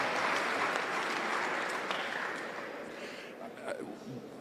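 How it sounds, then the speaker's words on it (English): Audience applause in a community hall at a public hearing on a railway safety bill, a steady wash of many hands clapping that slowly thins out, with a voice breaking through near the end. "You should give yourself a big hand of applause because it's been a long session"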